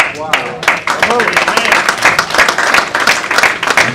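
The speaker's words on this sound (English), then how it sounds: "don't give me no claps" Loud audience applause at a community task force meeting, dense continuous clapping from a crowd close by, with voices mixed in.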